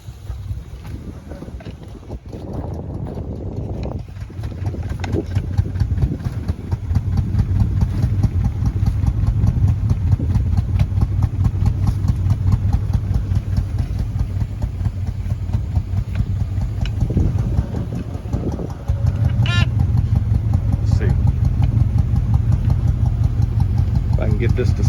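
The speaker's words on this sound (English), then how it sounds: "Let's see if it'll idle long enough to hear it from the back." A Chevrolet C10 shortbed service rig engine started for the first time in many years, idling with a steady low rumble that swells and holds, heard outdoors with wind noise and a person talking at times.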